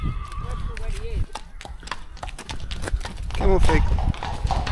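Horse hooves clip-clop on a farm, several steady strikes close by, with a person speaking over them and a Border Terrier puppy being walked nearby.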